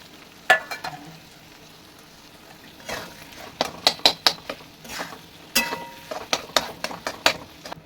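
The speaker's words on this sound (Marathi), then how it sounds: "बटाटे, कूट, मिरची वाटलेली सगळं आपल्याला परतवून घ्यायचं आहे चांगलं." Potatoes, crushed peanut powder and ground chili being sautéed in hot oil for sabudana khichdi, with a steady frying sizzle and repeated scraping stirs and clinks of a spoon against the pan, close and alone.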